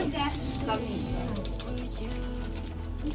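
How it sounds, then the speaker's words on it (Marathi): Butter fries and starts to burn in a pan for homemade white sauce pasta. A soft, steady sizzle runs throughout, with a voice speaking over it. "बटर जळतंय"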